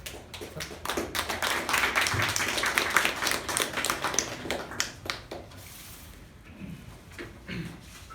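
Applause from a Toastmasters meeting audience, a dense burst of many hands clapping that swells, holds steady, then thins out into scattered claps as it fades.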